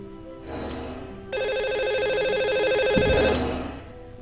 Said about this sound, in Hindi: इन्हें अभी हम लगाएंगे कॉल और करेंगे इनसे बात।